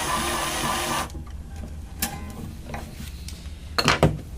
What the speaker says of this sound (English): We grab our string winder and we just want to wind that string on a half